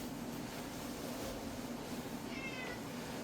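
A house cat meows at home, faint and somewhat distant against a steady noisy room background, with a brief higher call near the end.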